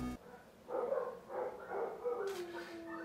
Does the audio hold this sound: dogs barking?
yes